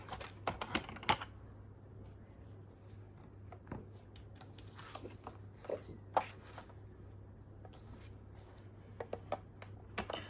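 Scoring 300 GSM printed paper for folding, a faint series of irregular dry clicks and scrapes spread across the whole stretch over a low steady hum, no voices.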